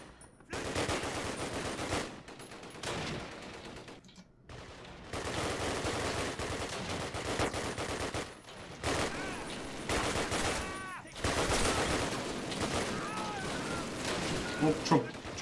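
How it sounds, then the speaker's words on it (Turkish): Bullets ricochet amid bursts of machine-gun fire and gunshots in Call of Duty: United Offensive, with rapid volleys broken by short pauses and a voice speaking at times. "Mermiler sekiyor."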